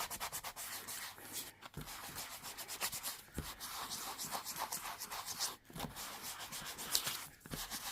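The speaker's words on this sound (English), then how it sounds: "I'm just going to sand this one" Sandpaper rubbed back and forth over a glossy magazine page to distress it, a steady close scratchy rasp in quick repeated strokes with brief pauses, no talk.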